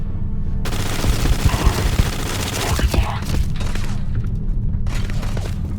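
Gunfire in the video game Starfield: loud, close bursts of rapid shots and booming impacts, dense and continuous across the moment, with voices faintly in the mix.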